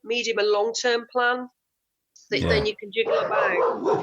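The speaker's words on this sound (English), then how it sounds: "So, that's a dog." A dog barks in a quick burst of yaps partway through, loud and close, breaking into a conversation with people talking before and after.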